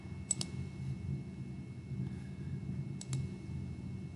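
A computer mouse clicks in a few quick pairs while SOLIDWORKS settings are being adjusted, the clicks sharp and close against a low room hum.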